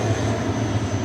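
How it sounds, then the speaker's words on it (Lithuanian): A fixed-wing airplane taking off from El Nido airport in the Philippines, a steady engine roar heard from nearby for a brief moment. "Matosi, kaip kyla lėktuvas"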